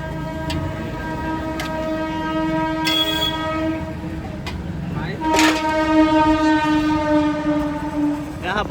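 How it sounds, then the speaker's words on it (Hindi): A train rumbles past on an elevated track close by in Delhi, its horn sounding in long sustained blasts over the heavy rolling noise, with voices talking nearby. "यहाँ बगल से ही ट्रेन ऊपर जाती है, इसलिए उसका आवाज आ रहा है"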